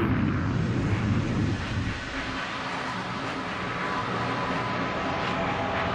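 Concorde supersonic jet in flight, a loud, steady broadband roar that eases slightly after the first couple of seconds and holds on without pauses.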